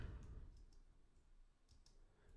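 Keys on a computer keyboard clicking in short, irregular taps while Java code is typed, faint and close, with no voice over them.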